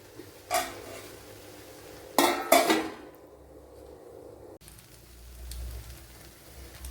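Metal lid clattering down onto a pan on a low flame in a home kitchen, a few sharp clanks close up followed by quiet cooking hiss.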